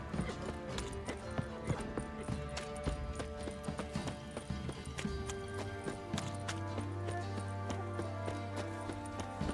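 Horse hooves clip-clopping in The Witcher 3 video game, a steady, fairly quiet run of hoofbeats with an occasional whinny, set against game ambience and background music.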